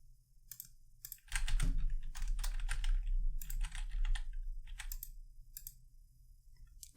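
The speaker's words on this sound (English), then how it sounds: "type in our credentials again" Keyboard typing on a computer while login credentials are entered, a steady run of close, crisp key clicks for several seconds with short pauses between bursts, no talking.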